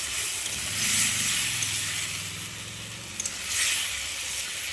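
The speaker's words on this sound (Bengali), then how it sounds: "এইবার আমি এটা খুব ভালো করে ভেজে নেব।" Fish fries in mustard oil with a ground paste of ginger, garlic, onion, tomato and green chili, giving a steady, close sizzle and hiss with faint stirring underneath.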